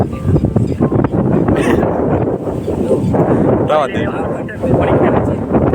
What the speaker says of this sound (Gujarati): આ વાળે છે પવન જો ફૂલ પવન છે એટલે આંબા અને આ ઝાડવા એટલા હલે છે